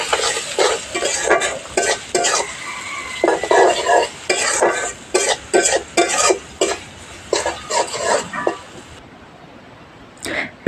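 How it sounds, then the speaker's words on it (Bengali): Chopped onions sizzle in oil with bay leaves, cardamom and cinnamon for a chicken curry while a spoon scrapes and stirs the pan in repeated loud bursts, ending in a brief quiet stretch. "পেঁয়াজগুলোকে আমি ব্রাউন করে ভেজে নিয়েছি"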